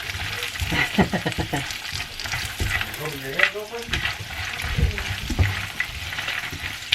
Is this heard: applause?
no